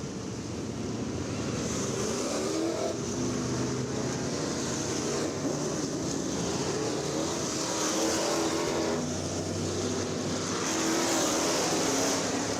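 A pack of modified race cars roars at Ocala Speedway as the field gets back underway at a restart. The engines drone loud and steady, and the pitch shifts as the cars accelerate and pass, with no talk.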